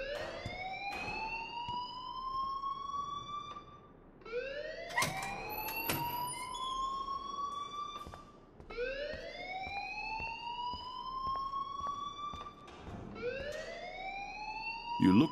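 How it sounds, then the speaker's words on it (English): Fire alarm in the Life is Strange video game, a repeating electronic siren whose rising sweeps loop steadily, loud and close, running the whole length with no one speaking over it. "please turn off that alarm since that's your job"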